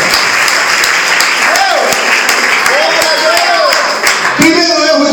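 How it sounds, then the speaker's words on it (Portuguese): Loud, sustained applause from a church congregation, dense clapping filling the space with a preacher's voice speaking over it. "Pode aplaudir"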